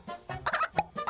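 Hen in an animated film giving a short burst of clucks, a few quick, moderately loud chicken calls lasting about a second.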